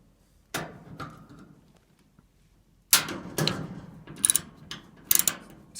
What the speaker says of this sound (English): removing these screws